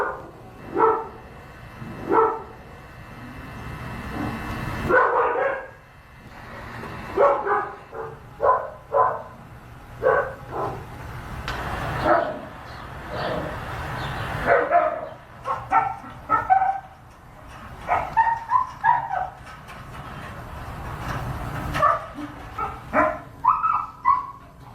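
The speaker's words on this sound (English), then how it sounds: "These are some times that they've been barking, day and night." Dogs bark repeatedly in uneven bursts, with some higher yips and whimpers mixed in, fairly close and loud against a quiet background.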